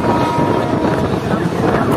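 The Ganadevta Express runs at 110 km/h through heavy rain, a continuous loud rumble with roaring wind noise filling the whole stretch.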